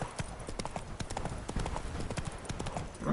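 Horse hooves clip-clop in a quick, steady rhythm as the horse is ridden, the sharp knocks close and clear throughout.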